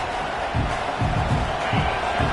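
Football stadium crowd roaring and cheering at a college game against Auburn, a dense steady wash of voices with rising bursts, loud and continuous throughout.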